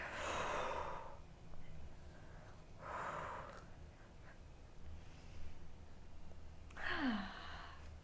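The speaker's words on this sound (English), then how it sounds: "We'll take a couple breaths here, move through these, inhaling forward and exhaling back." Quiet, close breaths in and out during a beginners' yoga flow, three soft airy exhalations and inhalations spaced a few seconds apart in an otherwise still room.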